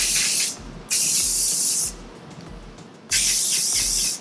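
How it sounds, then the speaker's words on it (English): Two long hissing bursts of Monat Refinish Control hairspray from a can close by, separated by a short pause, with faint rustling in between. "Spray that baby down."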